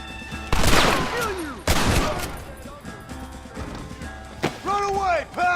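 Gunfire in the western video game Red Dead Redemption cracks out in loud, close bursts of several shots, with galloping hooves and shouting voices mixed in.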